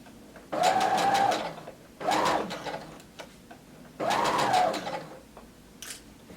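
A sewing machine stitches skirt fabric in three quick bursts of rapid mechanical chatter, each a second or so long, separated by short pauses with faint handling noise.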